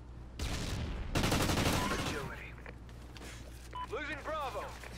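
Bursts of rapid gunfire from an Overwatch match ring out near and sharp at first, then fade to scattered game effects and chirping interface tones.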